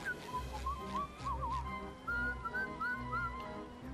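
A video game character whistles a wavering, nervous tune in two short phrases, fairly quiet, with no talk over it.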